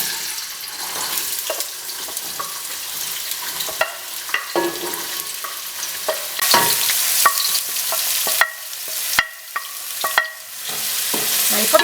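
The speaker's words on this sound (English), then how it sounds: "And to the oil we add our onions, celery and carrots," Chopped onions, celery and carrots hit olive oil for a lasagna soffritto, giving a crackling sizzle broken by repeated scraping and stirring strokes, loud and close with no talk.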